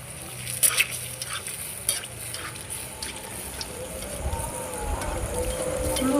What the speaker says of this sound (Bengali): এবার দিয়ে দিব পিঠার ব্যাটারটা। তো পিঠাটা আমার রেডি হয়ে গেছে।